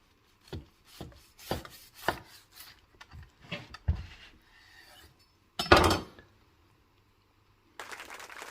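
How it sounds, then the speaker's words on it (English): A knife and spatula cut into an onion burger on a VEVOR 22-inch tabletop griddle, giving a series of sharp scraping and clinking strokes on the metal surface, one louder scrape partway through, with no talking. "now you know I got to cut into this, right?"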